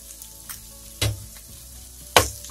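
Raw banana peel fries in a pan with a soft continuous sizzle, broken by two louder scraping stirs, the second the strongest near the end.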